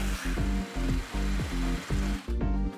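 A drill boring a hole whirs in short repeated bursts, starting and stopping about every half second, loud and close.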